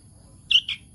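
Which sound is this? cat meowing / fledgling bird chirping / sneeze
fledgling bird chirping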